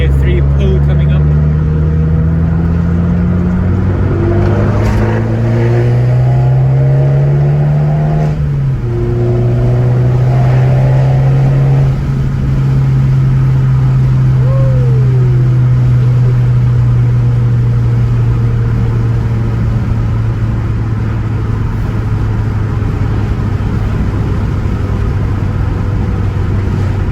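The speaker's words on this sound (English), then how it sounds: "Yeah, we've got a gear 3 pull coming up." An Abarth car accelerates hard in third gear, engine droning loud and rising in pitch over several seconds, then holding a steady rumbling cruise with road noise; a voice talks over it.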